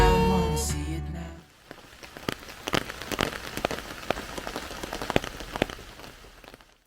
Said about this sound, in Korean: 들리시다시피 비가 오고 있어요.